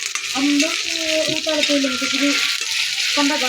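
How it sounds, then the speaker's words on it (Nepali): Tomatoes frying in a hot pan give a loud, continuous sizzle close up, with stirring scrapes and a low voice talking underneath. "अब टमाटर दिँदैछु हेर्नुहोस् है।"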